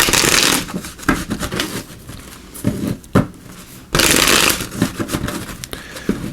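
Sun and Moon Tarot cards are shuffled by hand up close, producing riffling, papery bursts and soft slaps that come in waves with brief pauses between.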